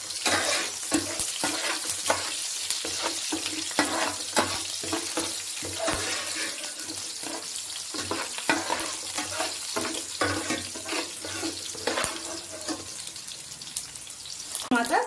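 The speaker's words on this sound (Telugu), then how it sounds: "చేసి పెట్టుకున్న ఆనియన్ ముక్కలు కొద్దిగా తెలగ మాటకు వేస్తున్నాను ఎర్రగడ్డలు బాగా గోల్డెన్ బ్రౌన్ కలర్ రావాలి వచ్చే వరకు వేయించుకుందాము" Onion pieces fry in oil for a curry with a steady sizzle close by. A spoon stirs and scrapes the pan again and again as they cook.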